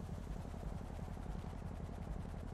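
Large helicopter flying overhead in the GTA roleplay game, its rotor thumping in a rapid, steady pulse over a loud, continuous low engine drone, with no talking.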